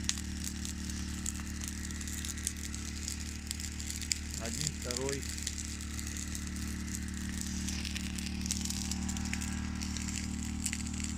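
Wood campfire crackles with scattered sharp pops over a low steady rumble outdoors, while someone says a couple of words in Russian partway through.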